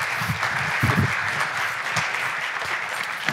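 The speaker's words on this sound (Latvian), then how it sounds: "Kārlis Apalubs, sagaidam ar aplausiem!" Audience applause at a security technology conference in Latvia, a steady wash of many hands clapping continuously and fairly loud, welcoming a speaker to the stage.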